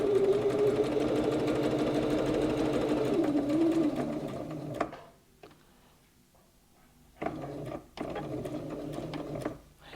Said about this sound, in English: we're going to sew to the other point